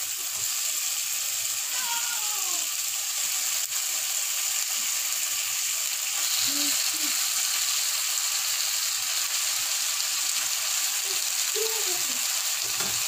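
Pork for pochero fries in a pot with a loud, steady, close sizzle and hiss that runs throughout, with a few faint clinks and scrapes from stirring mixed in.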